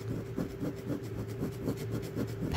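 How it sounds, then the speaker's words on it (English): Packing tape scraping cracked vinyl off a desk chair's cloth backing, giving a steady series of close, soft rubbing rasps in a quick repeating rhythm with no talk. "as a scraper to take off the cracked plastic layer."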